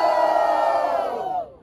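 A battle rap crowd roars and whoops loudly for the rapper Yoga, a dense sustained wall of shouting voices that swells briefly and then cuts off sharply near the end.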